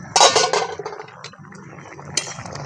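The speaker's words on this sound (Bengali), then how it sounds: "ঢাকনাটা খুলে দেখি সেদ্ধ হয়েছে নাকি।" A lid clanks and clinks as it comes off a cooking pot of pumpkin and fish, with a bright metallic rattle up front, then quieter kitchen clatter trailing after.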